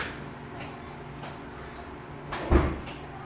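A drawer in a home is opened or shut with a single short knock and scrape near the close, otherwise quiet room tone.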